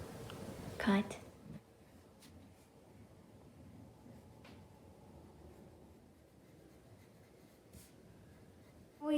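Pencil tracing a drawing on parchment paper, a faint steady scratching and rustle running throughout after a short voice at the start.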